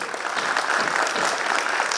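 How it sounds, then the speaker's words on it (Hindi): An audience at a National Youth Day gathering during the Maha Kumbh 2025 in Prayagraj claps steadily, a continuous, fairly loud wash of applause with no voices. "ताली बजाइए।"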